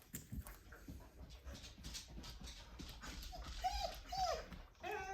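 Indoors, a dog makes soft, high whimpers and whines to go outside, mixed with faint clicking footsteps on the floor, fairly quiet and close, with no talking.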